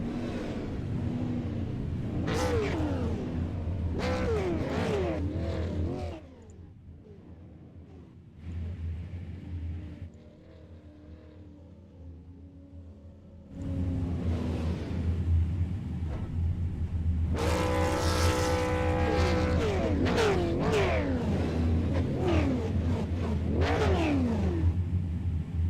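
Ten race cars line up on the front straightaway for a heat race, their engines rumbling and revving up and down close by. The sound drops briefly midway, then returns to a loud, sustained roar.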